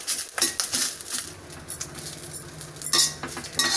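Chennangi leaves are stirred while dry roasting in a pan, with a light scraping and clinking of a utensil against the metal in quick, irregular strokes, close and fairly loud.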